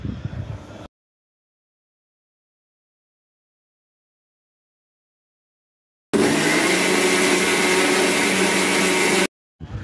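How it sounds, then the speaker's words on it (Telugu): A mixer grinder blends henna leaves with tamarind and lemon juice in a loud, steady whirring burst of about three seconds, following a brief start and a long silent gap. "ఈ విధంగా మెత్తగా గ్రైండ్ చేసుకోవాలి"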